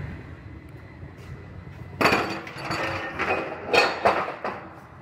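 Metal clamps being fitted to hold a vehicle down on a frame bench, producing a series of close metallic clanks and knocks after a quiet start, several spaced hits ringing briefly.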